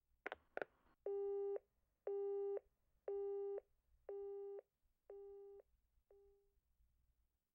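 Repeated busy-signal tone from a telephone after a call is cut off in the horror game Hayarigami 2, sounding as six evenly spaced beeps, the last one short, with a couple of sharp clicks just before, clear and alone.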